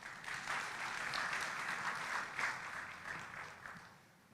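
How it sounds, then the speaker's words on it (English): Audience applause fills a hall at the 18th COMESA Business Forum at KICC in Nairobi, a sustained, dense round of clapping that holds steady before tapering off toward the end. "let's give him a round of applause"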